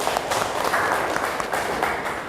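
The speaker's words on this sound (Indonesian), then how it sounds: "Oke, tepuk tangan." Classroom applause from a group of pupils, a steady wash of clapping at moderate volume throughout, with no talking over it.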